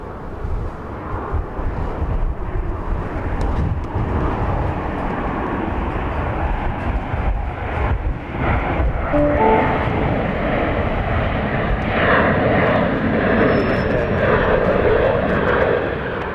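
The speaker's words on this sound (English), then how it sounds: "Flight 52 from Houston Hobby Airport is landing. This is 737-700." A Boeing 737-700 on Flight 52 from Houston Hobby lands at Dallas Love Field, giving a loud, steady jet engine roar that holds close and strong throughout and swells slightly toward the end.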